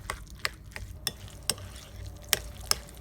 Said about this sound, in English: Now let's stir.